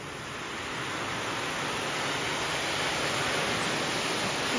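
Water pours steadily from a pipe on a farm, making a continuous broadband rushing hiss that holds at an even, moderate loudness throughout, with no voices.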